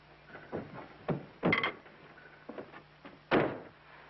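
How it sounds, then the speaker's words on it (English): A door being pushed shut indoors in an old film scene, heard as a few soft thuds and knocks with one firmer closing bump near the end, fairly quiet against a low room hum. "Will you close this door, please?"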